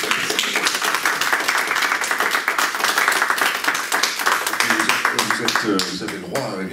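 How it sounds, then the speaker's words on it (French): Audience applause after a talk honouring a D-Day hero, a brisk, continuous patter of many hands clapping close by, with a voice starting to speak as the clapping thins near the end. "Je pense qu'on peut vous applaudir."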